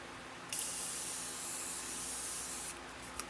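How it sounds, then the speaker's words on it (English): Morphe setting spray misted from a pump bottle: one close, steady hiss lasting about two seconds, with no talking. "Use your Morphe spray."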